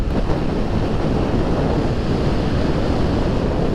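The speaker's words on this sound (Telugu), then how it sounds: "దగ్గరికి వస్తున్నట్టున్నాం, అందుకే ఎంతలా గాలి వేస్తుంది" Strong wind buffets the microphone as a motorcycle rides toward Revupolavaram beach, a loud, constant roaring rush with no pauses.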